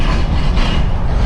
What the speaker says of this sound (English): Sorry about the truck noise.